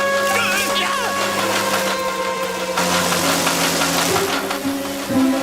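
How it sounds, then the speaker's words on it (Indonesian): A cartoon lawn mower engine runs with a steady, knocking mid-pitched drone throughout, rough and continuous, with a brief clunk near the end. "Di mana mesin pematang rumputku berada?"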